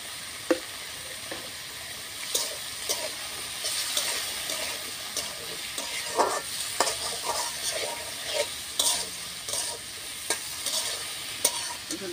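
Potatoes and bitter gourd with a little salt being stirred and fried in a pan, a continuous close sizzle broken by repeated scraping spoon strokes and clinks at an uneven rhythm.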